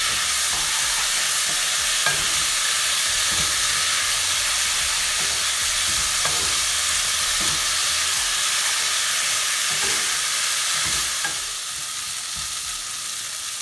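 Diced potatoes, about two of them, sauté in a hot pan for a vegetarian potato and pea samosa filling, giving a steady, close sizzle with light stirring scrapes throughout that eases slightly near the end.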